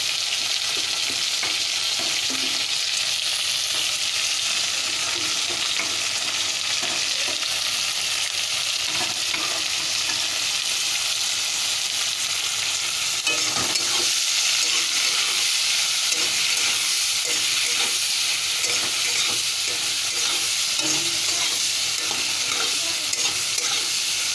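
Tomatoes frying in a pan for a vegetarian mushroom curry, with a steady loud sizzle and hiss under continuous close-up stirring and scraping, and no talking.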